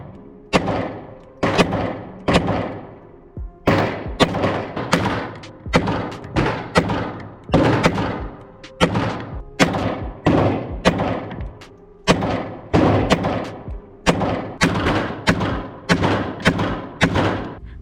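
A Canik MC9 Prime pistol fires a long string of loud, sharp shots at a shooting range, in quick groups with short pauses between them, each crack followed by a brief echoing decay.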